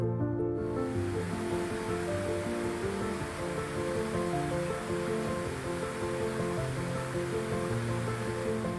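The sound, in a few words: waterfall pouring over a sheer rock face in Appalachia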